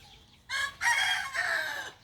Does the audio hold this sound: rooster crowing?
yes